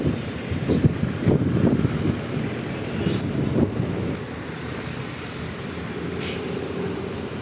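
Wind blows outdoors along a road, rumbling and buffeting against the microphone in uneven gusts that are stronger at first, then settle to a steadier low roar.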